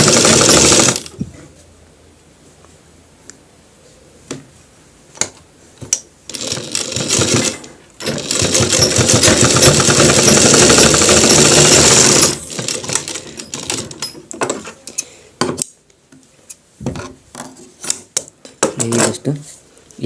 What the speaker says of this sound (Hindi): इस तरीके से इसी के ऊपर हमने इस तरीके से सिलाई लगा लिया है